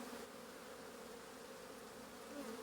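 A honeybee colony exposed during a large hive extraction from a wall in North Idaho gives a steady, dense buzzing that runs unbroken and fairly close, with no talk over it.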